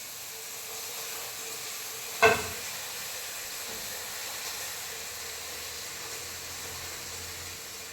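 Tawa chicken (Al Faham) cooks in a pan, giving off a faint, steady sizzle and hiss, with a single sharp clink partway through.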